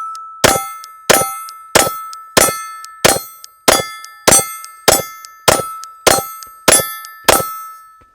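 Slide of a Glock 19 Gen 5 pistol released repeatedly, a series of about twelve sharp metallic clangs at an even rhythm roughly every half second, each ringing briefly, loud and close with no talking.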